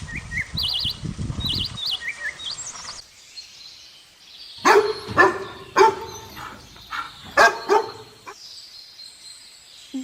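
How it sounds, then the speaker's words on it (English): A Dalmatian barks in a short run of loud, close, sharp woofs, after bird chirping that fades out. "Dalmatian."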